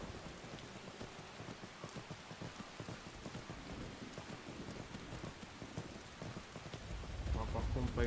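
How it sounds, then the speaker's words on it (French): Steady rain falls in Skyrim, a constant hissing patter of drops with a deeper rumble swelling near the end, heard at a soft level without talk. "la pluie c'est horrible"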